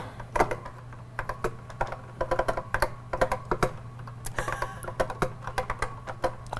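Someone types on a computer keyboard at close range, producing bursts of quick, irregular clicks with short pauses between runs of keystrokes over a faint steady hum.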